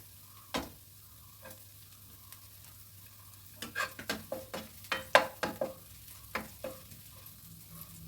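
Ginger garlic paste and green chili frying in a pan for a capsicum curry, with a low sizzle under a run of close stirring scrapes, sparse at first and then quick and rhythmic, with no voice.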